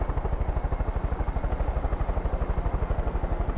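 A helicopter in the video game Far Cry 5 thrums with fast, steady rotor beats and a continuous engine whine, loud and close throughout with no speech.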